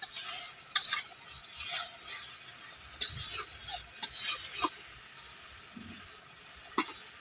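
Tomato chochchori being stirred in a pan for a puti fish dish, with scattered scraping strokes of a spoon at an irregular pace over a soft, steady sizzle of frying.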